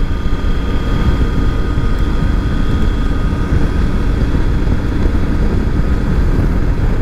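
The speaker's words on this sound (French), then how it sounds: "le moteur est bien agréable, j'aime bien le son" A Triumph Tiger 900 GT motorcycle engine runs with a steady, loud, low rumble and a continuous drone, unbroken and close, with no voices over it.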